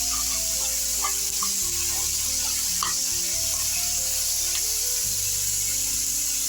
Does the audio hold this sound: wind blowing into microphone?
no